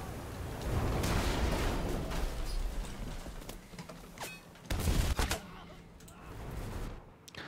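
Gunfire and blasts from a World War II battle in the shooter Enlisted, with a tank explosion among them: dense, continuous combat noise with sharp cracks and a heavy burst near the end.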